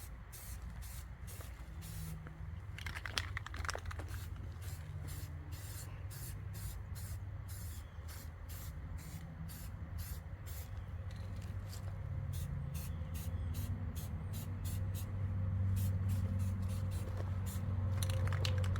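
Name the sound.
spray painting a rifle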